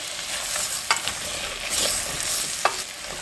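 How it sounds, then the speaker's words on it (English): Potatoes and leeks being stirred in melted butter for a potato and leek soup, with a steady soft sizzle broken by a few distinct scrapes of the spoon against the pot, close by and with no one talking. "And the potatoes. And we'll just coat it with the butter."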